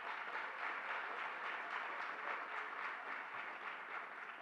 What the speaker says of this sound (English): you can give them a round of applause, the NAACP for putting this event on